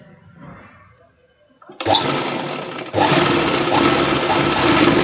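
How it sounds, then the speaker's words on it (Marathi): A sewing machine starts after a quiet pause and runs loudly and continuously, double stitching seams on a dress, its rapid needle chatter holding steady to the end with a brief stutter partway through. "सगळ्या ठिकाणी आपल्याला डबल शिलाई मारायची आहे."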